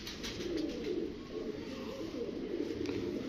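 A champion tournament pigeon coos in a low, soft, continuous rumble over steady background noise.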